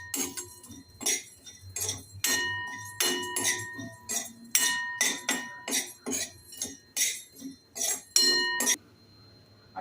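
Fennel seeds, cumin and cloves being roasted in a pan for buttermilk masala, with sharp metallic clinks and scrapes of a utensil against the pan in an irregular rhythm, close by, then quiet.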